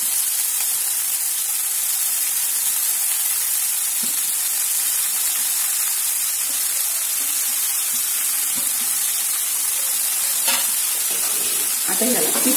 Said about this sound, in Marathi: आता आपण याच्यात आपली चिरलेली मेथी टाकून घेऊया।